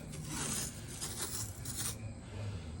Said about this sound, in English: I just like taping off the whole fretboard